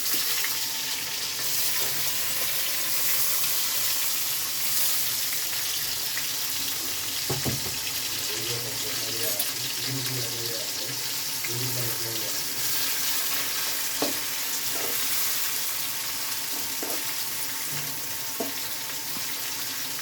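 Onions frying in a pan for chicken curry, a steady loud hiss of sizzling oil throughout, with a few soft clunks and brief bubbling in the middle.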